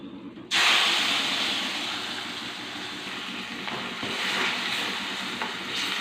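Spice paste for a potato and brinjal curry hits a hot pan with a sudden loud sizzle, then keeps up a steady, close, hissing fry with faint stirring scrapes throughout, with no talking.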